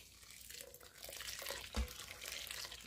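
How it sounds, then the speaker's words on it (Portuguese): One litre of boiling water is poured while making goat's milk liquid soap, giving a soft, continuous splashing and gurgling pour with a brief thud partway through, fairly quiet, with no talk. "Vou colocar aqui 1 litro... Ó, 1 litro de água fervendo."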